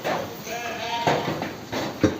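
Sheep bleat in a busy pen at feeding time, several overlapping calls close by with soft thumps and rustling around them.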